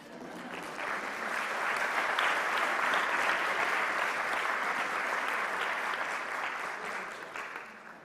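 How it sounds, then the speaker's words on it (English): An audience at a masters graduation ceremony breaks into applause, a broad sustained wash of clapping that swells within the first second, holds steady for several seconds, then tapers off toward the end. "I was waiting for some applause, okay."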